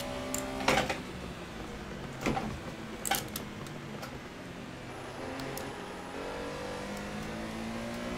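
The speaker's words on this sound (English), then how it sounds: "You can hear me holding the gas pedal down on with my heel." A Porsche Carrera Cup car's engine revs with the throttle held down in a racing simulator at Imola, a faint steady drone broken by a few sharp clicks.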